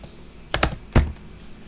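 A few quick keystrokes on a computer keyboard while working in MATLAB, a tight double tap then a single louder press, close and crisp in a quiet room.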